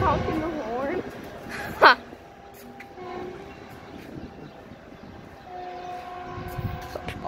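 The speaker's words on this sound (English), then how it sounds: "that's honking the horn" A Tri-Rail commuter train at Opa-locka station sounds one brief, loud horn blast. The train rumbles on at a distance, and people talk now and then.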